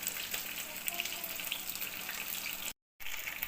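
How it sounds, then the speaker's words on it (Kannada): Masala-marinated fish frying in a hot pan, a bright continuous close sizzle and crackle with one short gap near the end. "ಈಗ ಫ್ರೈ ಮಾಡೋಕ್ಕೆ ಹಾಕಿದ್ದೀನಿ."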